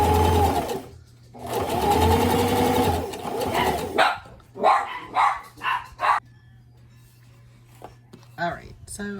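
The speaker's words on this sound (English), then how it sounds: "I'm gonna sew the second one just the same way" A sewing machine stitches repurposed jeans fabric in two loud, fast, whirring runs close up, then a person speaks in short bursts once the machine stops.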